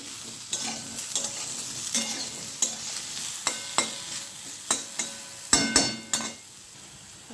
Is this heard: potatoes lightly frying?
yes